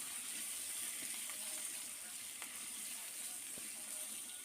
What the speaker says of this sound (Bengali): এবার সব কিছুকে একটু সময় ভেজে নেব।